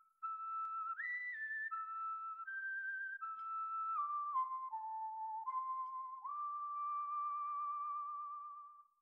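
A character in Yo-kai Watch 3 whistles a melody, a clear solo tune of stepped notes, some held with a slight waver, close and loud against silence and lasting several seconds.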